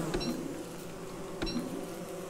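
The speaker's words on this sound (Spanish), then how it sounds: "Es la reina abeja." Queen bee from Don't Starve Together buzzing steadily at a moderate level, a continuous insect drone with two brief sharp accents and no talking.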